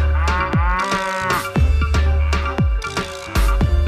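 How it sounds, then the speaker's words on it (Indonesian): Cattle mooing in a sequence of loud, close, drawn-out calls, several moos following one another with short gaps, heard alone without talking. "Wow, hewan sapi."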